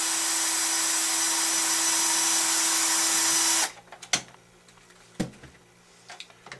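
A small power screwdriver whirs steadily for several seconds while backing out the top screw of an RC car rear hub, then stops, followed by a few light plastic clicks and taps close by.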